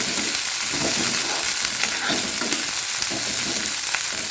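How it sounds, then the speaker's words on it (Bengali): Sliced onions sizzle and crackle in hot oil in a pan while being stirred for a Bengali chicken posto, a steady close frying hiss with scraping stirs and no talk. "কিছু সময় একটু ভেজে নেব আমি এই পেঁয়াজটাকে"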